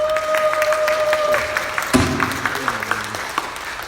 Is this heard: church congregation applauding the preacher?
yes